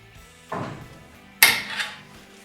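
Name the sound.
flipping over the Hammer C3 31 planer table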